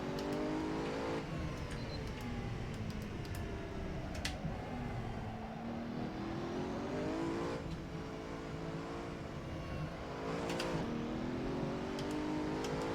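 Racing car engine in the Assetto Corsa driving game on an easy track, revving and shifting continuously and loudly with rising and falling pitch sweeps through gear changes.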